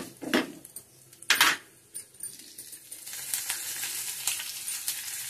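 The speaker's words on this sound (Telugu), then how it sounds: "కొద్దిగా నూనె వేసుకుని మనం ముందు కొంచెం పప్పులు ఉన్నాయి కదా, మినపప్పు, ఆవాలు, జీలకర్ర," Urad dal, mustard seeds and cumin hit hot oil in a pan for a chutney tempering, with two sharp clatters of metal utensils at the start, then a rising crackling sizzle.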